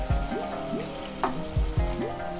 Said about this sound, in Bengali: এখন যে চিকেনটাকে ভেজে রেখেছিলাম ওটা দিয়ে দিচ্ছি।